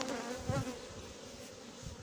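Honeybees circle close around a beekeeper during a hive transfer on a farm, a steady insect drone with a brief louder pass near the mic, no talk.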